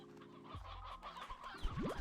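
Chickens cluck in the video game Slime Rancher 2, with a short run of soft, close clucks over a faint steady background hum.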